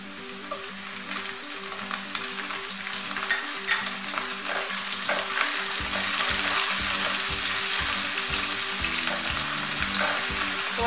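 Onion and ginger fry in a pan for aloo gobi, a close, continuous crackling sizzle that grows slightly louder, with occasional stirring scrapes and a faint low hum underneath.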